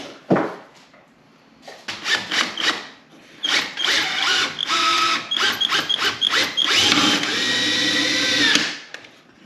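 A jigsaw cutting wood buzzes in repeated bursts, stopping and starting, then runs in a long steady cut before cutting off; close and loud.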